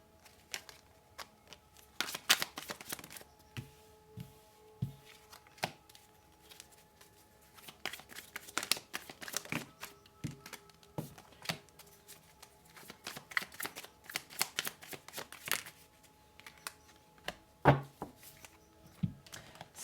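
Tarot cards being shuffled during a reading, heard as repeated papery riffling bursts and soft slaps with short pauses between, close and fairly quiet with no talking.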